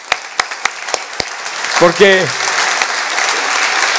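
Audience applause at a gathering: a few sharp, separate claps open, a voice briefly speaks, then clapping swells into a dense, sustained round of applause.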